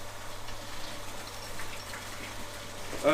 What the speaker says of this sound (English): all we're doing here is we're just wetting the grain as it goes in